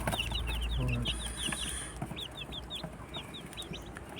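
Fifteen chicks, some of them ducklings, peeping in quick high chirps that come in bursts, with a deeper clucking hen close by early on and faint background noise.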